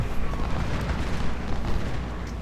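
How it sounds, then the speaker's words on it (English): Artillery opens fire in the Civil War strategy game Ultimate General: Civil War, with the Union army firing. The result is a dense, continuous rolling rumble of overlapping cannon booms at steady loudness. "Open fire, Loomis!"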